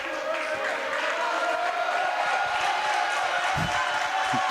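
A steady wash of basketball crowd noise fills a gym during a free throw at a tournament game, loud and continuous, with scattered shouts and voices blending into the roar.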